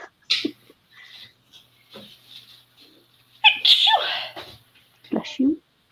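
A single sneeze in a home setting while a journal page is being painted, sharp and fairly close, set among short bursts of conversation and scattered small noises.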